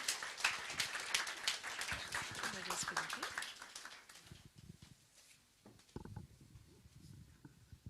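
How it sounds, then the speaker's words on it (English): Audience applause at the Think Africa event, dense clapping that rises loud at the start and thins out after about four seconds, with a few scattered claps near the end. "A hand of applause, please."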